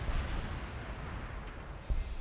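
Distant gunfire in the video game Warhammer 40,000: Gladius, Astra Militarum, booms faintly under a low rumbling background, with a couple of muffled shots standing out.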